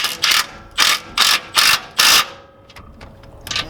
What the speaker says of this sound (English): I'm gonna go ahead and use an impact gun.